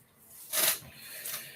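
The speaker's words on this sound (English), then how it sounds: "Shuffling the cards" A deck of tarot cards shuffled by hand, a soft rustling riffle swelling into one brighter, papery burst and then a second, quieter flutter, close and fairly faint with no talking.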